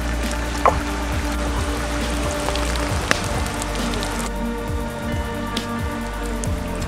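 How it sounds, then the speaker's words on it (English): Water at a rolling boil for wild tea over an outdoor camp fire, with dense, continuous bubbling and popping like rain on a surface, plus an occasional sharp tick, steady and close. "Nice rolling boil"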